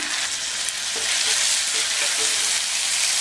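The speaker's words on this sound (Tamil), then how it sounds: "2 மீடியம் சைஸ் தக்காளி பழம் பொடியாக கட் பண்ணதை சேர்த்துடலாம்." Chopped tomatoes and onions frying in a pan for bitter gourd tamarind kuzhambu give off a steady, loud, close sizzle throughout, with no voices.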